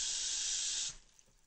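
Water gushing from a tap into a pan for boiling green beans, a steady close hiss that cuts off abruptly, leaving a quiet room.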